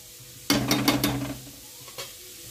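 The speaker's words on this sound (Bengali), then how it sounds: "ভালোভাবে ভেজে নিচ্ছি সব সবজি" Beans and mixed vegetables, including spring onion, frying in a pan for chowmein: a sudden loud sizzle as they hit the oil, with quick stirring clatters that fade, then one more scrape.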